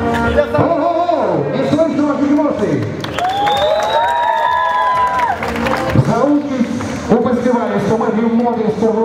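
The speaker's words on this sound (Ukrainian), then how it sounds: "Пожалуйста, аплодисменты" An audience applauds at a fashion show runway event, steady clapping and cheering heard alongside a presenter's voice and background music throughout.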